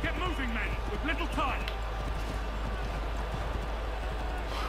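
A horse gallops in the Assassin's Creed 3 video game, steady hoofbeats running under a constant wash of game noise, with voices calling out over it.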